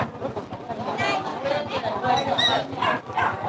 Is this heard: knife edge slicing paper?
no